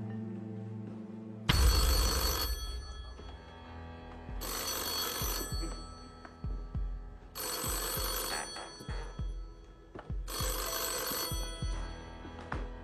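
A telephone bell ringing loudly in four long repeated bursts with short pauses between them, the banker calling on the game show Deal or No Deal.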